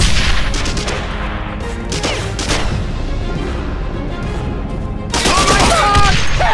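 A grenade blast and rapid gunfire in the video game Wolfschanze 2 hit as a loud, dense barrage, with a pause in intensity midway before another sharp burst near the end, and voices shout over the din.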